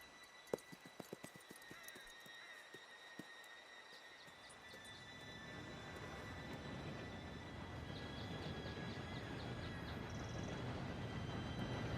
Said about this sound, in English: Train should be here any minute.